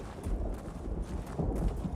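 Steady clip-clop of hooves from a mount ridden in the video game Elder Scrolls Online, a continuous close rhythmic trot filling the whole stretch with no talk over it.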